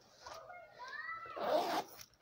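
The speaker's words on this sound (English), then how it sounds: "And then you have a zipper pocket" A zipper on a side pocket of a bag is pulled in one quick, close, scratchy run lasting about two seconds, quiet overall with no talking over it.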